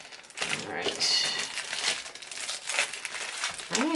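A plastic bag crinkles and crackles in bursts while an item is unboxed, close and busy, with a faint voice at the very end.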